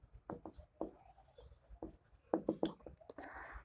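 Pen scratches on paper while a geometry proof is written out in a classroom-style lesson. Short strokes and taps come in quick bursts, quiet and close, with pauses between them and no speech.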